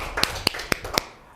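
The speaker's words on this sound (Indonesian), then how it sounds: "Kasih tepuk tangan yang meriah untuk Catherine." Four sharp, evenly spaced claps ring out in a classroom as a student is applauded, each crisp hit close and distinct, fading into quiet room tone.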